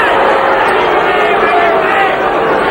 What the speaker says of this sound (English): Crowd getting a little tired of that.